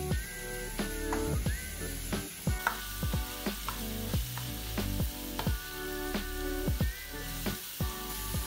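Chopped vegetables brown in a hot pan for healthy spaghetti, a continuous close sizzle broken by regular scraping stirs of a utensil against the pan, with no voices.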